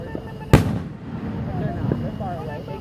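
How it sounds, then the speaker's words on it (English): A firework bursts with one loud, sharp bang, followed by faint crackling and distant pops while voices talk softly in the background. "I'm just waiting for my favorite firework."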